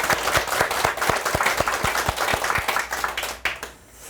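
Lecture hall audience clapping for a speaker, a dense round of applause with distinct sharp claps running steadily before it tapers off and fades to near silence.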